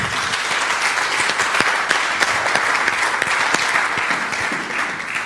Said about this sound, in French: Acclame le Seigneur.